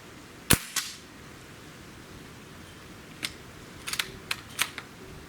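Beeman Raider air rifle firing, one sharp close crack early on, followed by a scatter of quieter snaps and clicks near the end, in a quiet setting without talk.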